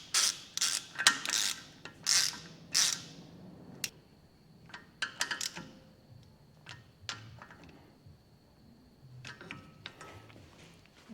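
Small M6 bolts on a Toyota Hilux wheel hub are tightened with a ratchet, giving a run of sharp clicking pawl bursts. The bursts come in quick groups, then sparser clicks and light metallic taps follow, fairly close with no talk.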